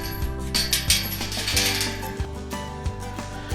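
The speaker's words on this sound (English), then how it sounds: "So let me get this gate open and I'll kind of turn the camera around." A metal farm gate at a hay feeder swings open with loud, close ratcheting clanks and rattling metal knocks, repeated sharp impacts over a steady clattering mechanism, with no voices.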